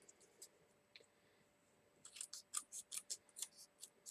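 Scissors snip paper close by for a stampin' craft project, a few sparse cuts at first, then a quick steady run of crisp snips, soft and quiet with no voices.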